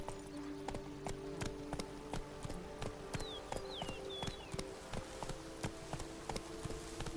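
Horse hooves clip-clop at a steady walking rhythm in the Witcher 3 video game, close and moderately loud, with a few faint bird-like chirps above the hoofbeats.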